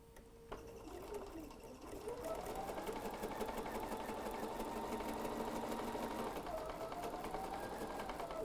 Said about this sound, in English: Let's take that right to our sewing machine